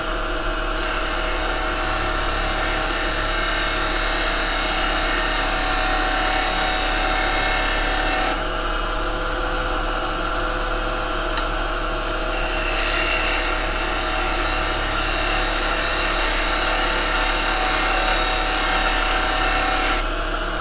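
A wood lathe spins a Zebrano wood workpiece while a carbide tool cuts it, a loud continuous whirring rasp with steady tool scraping, briefly shifting in tone midway.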